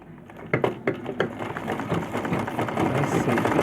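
A Butterfly sewing machine stitches after a bobbin case repair, a quick rattling mechanical chatter that starts with a few clicks and then runs steadily at close range.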